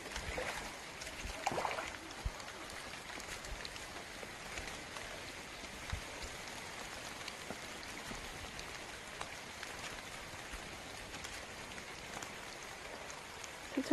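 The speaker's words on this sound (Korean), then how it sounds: "아주 비 내리는 거 보세요. 낙엽 위로." Steady rain patters on fallen leaves along a rocky descent on Bukhansan mountain, with a faint, even hiss and scattered drops throughout and no voices.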